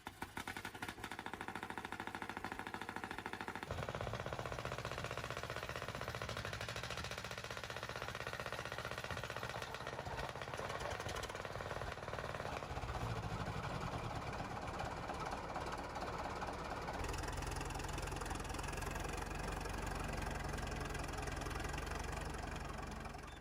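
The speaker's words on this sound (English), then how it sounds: "Caterpillar's 1955 D7, a 9U series bulldozer, runs a 74-horsepower D339 diesel with pony motor start" A 1955 Caterpillar D7 9U series bulldozer with a 74-horsepower D339 diesel and pony motor start runs continuously, a dense, steady engine drone with knocking texture that shifts character a few times, loud and close, with no talking.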